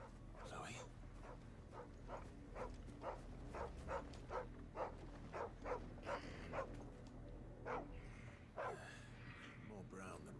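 A dog barks in the video game Final Fantasy XVI, a string of rapid, close barks and yips that thin out into a few spaced barks, with a voice speaking over them.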